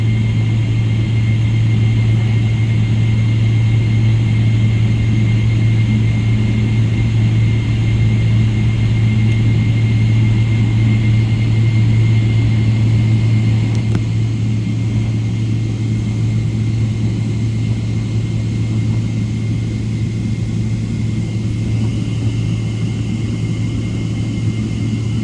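Steady, loud engine roar inside an airliner cabin during takeoff from Ho Chi Minh City airport, a constant low drone with a sustained hum that holds unbroken for the whole stretch, no voices.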